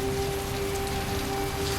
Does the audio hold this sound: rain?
yes